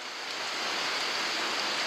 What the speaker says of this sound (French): Il y a des endroits où il y a des gouttes qui tombent, et forcément, il y a des gouttes qui tombent en plein sur le capot